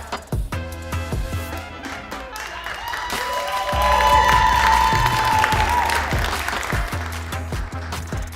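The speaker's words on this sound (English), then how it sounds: "you'll all erupt into a thunderous round of applause" An audience at an open-stage variety show bursts into applause and cheering after a sword swallowing act, clapping swelling to a peak midway then thinning out, with scattered shouts.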